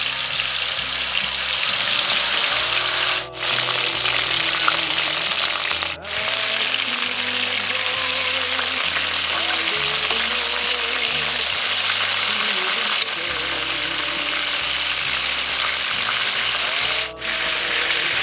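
Chicken pieces fry in a pan over medium heat, giving a steady, loud, broadband sizzle that runs continuously, with a few brief dips and faint clinks of cookware mixed in.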